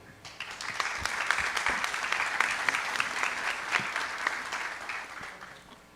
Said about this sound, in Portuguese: Vamos receber com os aplausos José D'Amigo Neto.